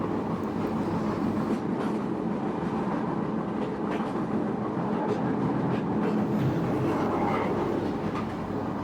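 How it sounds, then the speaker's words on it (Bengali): A train rumbles along steadily with continuous rolling noise and faint rhythmic clatter of wheels, no voices. "ট্রেন চলছে"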